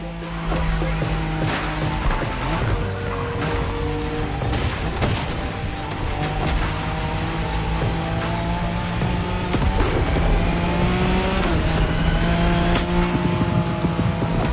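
A Nissan Skyline driven in The Crew Motorfest, its engine droning steadily with rising and falling gear tones, overlaid by tire squeal and occasional bumps, loud and continuous throughout.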